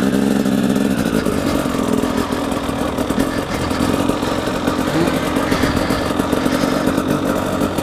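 A dirt motorcycle runs laps at the Porterville off-highway vehicle track, its engine buzzing and revving continuously with a rough, clattery tone. Wind noise rides over the engine throughout.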